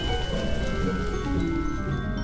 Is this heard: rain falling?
yes